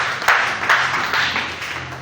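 A church congregation claps together, a dense burst of hand claps with a few sharper accents, sustained and fairly loud for a short stretch.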